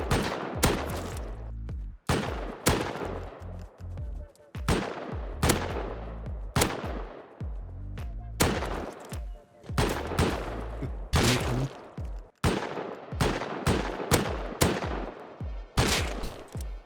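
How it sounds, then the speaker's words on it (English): Bursts of automatic turret gunfire in the survival video game Rust, loud and close, coming in repeated volleys of rapid shots separated by brief pauses. "I see the turret that was shooting at me"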